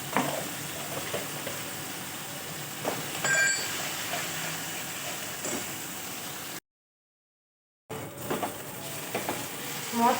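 Spice masala sizzles and crackles as it fries in a pan and is stirred, a close, steady frying hiss with scraping stirs, broken by a short silent gap.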